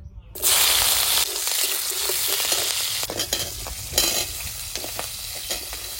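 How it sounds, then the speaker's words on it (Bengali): Slit green chillies hit hot mustard oil with a sudden loud burst of frying, then a dense, steady sizzle and crackle nearby, broken by a few spatters and stirs, with no speech. "প্রথমে সর্ষের তেল, তো প্রথমে লঙ্কা দিয়ে দেবো তেলের উপরে, কাঁচা লঙ্কা চিরা"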